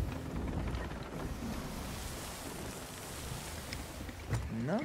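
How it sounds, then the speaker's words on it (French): Ocean waves and a boat at sea in the Sea of Thieves video game, heard as a steady, loud wash of water and wind noise throughout, with a low rising tone near the end. "les vagues me font aller complètement n'importe où."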